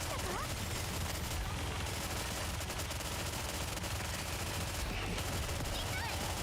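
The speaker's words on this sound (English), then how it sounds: "minigun, it just sounds like a popcorn gun." A minigun fires continuously in the video game NIKKE, a dense, unbroken rattle that sounds like popping popcorn, steady and fairly faint in the mix with no talk.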